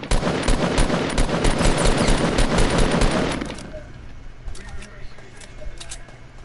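Rapid video game gunfire crackles in a dense, loud burst for about three seconds, then stops and leaves a quieter stretch with a few faint scattered clicks and pops.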